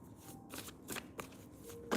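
Tarot cards shuffled by hand in quick papery riffles and soft slaps, close and fairly quiet, with no talking over them.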